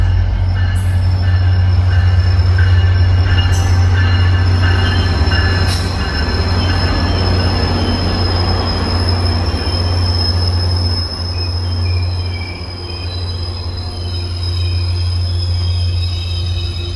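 A Caltrain commuter train rumbles past steadily for the whole stretch, heavy low roar with occasional high wheel squeals and metallic screeches.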